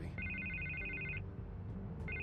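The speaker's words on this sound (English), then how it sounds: "I can't get the phone to stop ringing." A telephone rings inside the video game Batman: The Telltale Series, giving a steady electronic trill that stops briefly and then starts again over a low, busy game background, with no speech.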